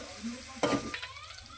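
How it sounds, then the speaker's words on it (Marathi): Cabbage frying in oil for soybean chilli gives a brief stirring scrape and crackle over a faint, steady sizzle. "आता तेलात कोबी टाकून घेऊया आणि मस्तपैकी शिजवूया"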